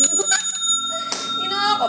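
A bell sound effect rings during a TikTok live selling stream, bright and repeated over the host's continuous chatter.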